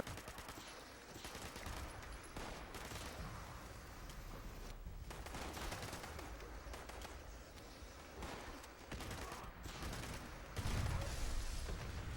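Rapid automatic gunfire in the video game Fallout 76, dense bursts of shots at a moderate level running almost continuously, with no talk.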